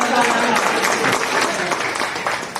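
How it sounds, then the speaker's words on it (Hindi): Clapping from the audience at a Hindi Day ceremony with poets at a Jharkhand office, a brief burst of applause that swells and then thins out, with a voice faintly mixed in. "अच्छा लगा तो ताली बजाए।"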